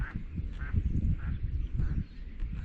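Several ducks quack in short repeated bursts at a moderate distance, heard outdoors over a steady low rumble of wind or movement.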